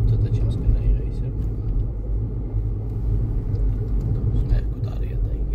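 A manual-transmission car driven on city streets during a driving exam gives off a steady low engine rumble that builds slightly as throttle is added, filling the interior, while speech runs over it throughout.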